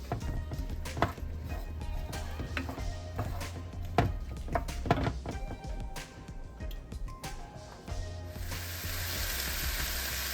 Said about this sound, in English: the red peppers and the onions and the garlic cooking together